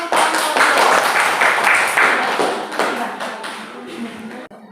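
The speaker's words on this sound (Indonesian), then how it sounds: "Tepuk tangan untuk" A classroom of students bursts into loud, dense applause close by, a sustained wash of many hands clapping that tapers off toward the end.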